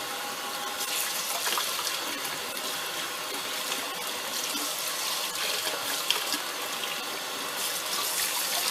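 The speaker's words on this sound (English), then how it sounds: "So you're just basically rinsing it off, making sure all the dirt is out." Tap water runs steadily into a kitchen sink as celery is rinsed clean of dirt, a continuous close hiss and splash with no pauses.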